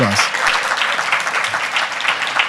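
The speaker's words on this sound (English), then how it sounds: "Applause." An audience at a closing-night film screening applauds steadily for a few seconds. The dense clapping is loud and close, and a brief voice sits at the very start.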